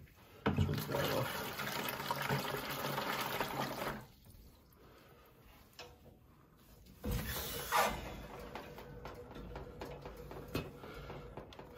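Rushing water refilling a Weil McLain steam boiler, loud at first, then a quieter lull before the flow surges again and keeps running.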